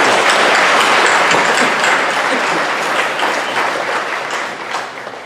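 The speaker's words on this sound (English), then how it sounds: "let's give her a round of applause as well" At a university student awards convocation, an audience gives a round of applause for an absent award recipient. The clapping is loud and dense and holds steady, then gradually tapers.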